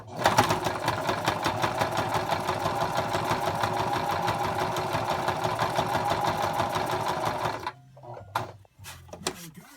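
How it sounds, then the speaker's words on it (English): A sewing machine stitches around the edges of a fabric bow tie strap with a fast, steady mechanical whir close up for about seven seconds, then stops, followed by a few quieter handling noises. "you want to sew around the edges of the strap"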